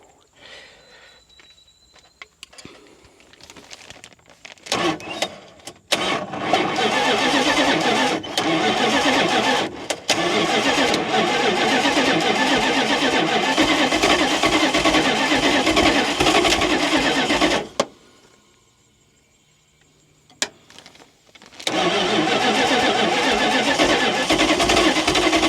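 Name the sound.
1977 Dodge van engine cranking and starting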